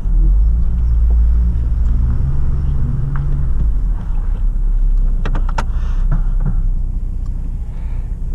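A 2006 Hummer H3 with freshly replaced front brake pads and rotors drives along with a steady low rumbling engine and road drone heard from inside the cabin, plus a few faint clicks and rattles.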